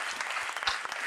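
A church congregation claps in a brief, dense burst of applause that carries on without a break for about a second, with no voice rising clearly above it.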